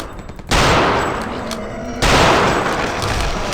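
Rifle shots ring out in the 2001 video game Return to Castle Wolfenstein. Two loud, booming blasts about one and a half seconds apart each leave a long, decaying roar, with faint background noise before the first.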